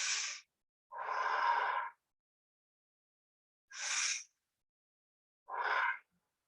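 Four deep, slow breaths during a seated hatha yoga stretch, close and clear, each inhale or exhale a soft airy rush separated by silent pauses.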